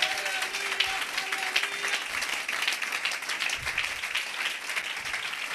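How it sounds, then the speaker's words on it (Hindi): Loud, sustained applause from a church congregation cheering for Jesus Christ at a Christmas evangelical gathering, dense clapping filling the room steadily throughout with no break. "यीशु मसीह के लिए जोरदार ताली"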